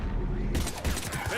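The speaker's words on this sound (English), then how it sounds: "Oh, the shooting feels crisp, that's for sure." A dense burst of rifle gunfire from the Mass Effect 3 game opens sharply and rattles on as a loud, continuous fusillade.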